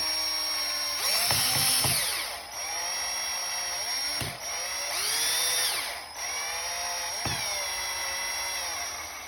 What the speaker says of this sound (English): And you just drill it forward.